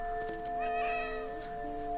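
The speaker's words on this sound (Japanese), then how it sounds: "見てにゃー言うてる" A cat's drawn-out meow with a wavering, tonal rise and fall, close and fairly clear, heard alone over a steady background hum.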